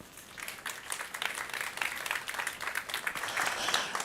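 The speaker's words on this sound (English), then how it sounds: "please give them both a warm applause and welcome to the seminar" An audience at an economic policy seminar applauds, a rising patter of many hands clapping that grows fuller toward the end, moderately distant in a hall.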